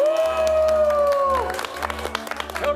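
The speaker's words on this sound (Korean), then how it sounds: "내빈 여러분께서는 큰 박수를 부탁드립니다." Crowd applause and cheering as the Korean team enters at the PyeongChang Winter Olympics opening ceremony, sustained clapping under a held musical tone and scattered shouts, with some voices mixed in.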